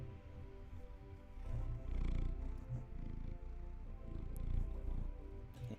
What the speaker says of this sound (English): Oh my god, he's purring really loudly.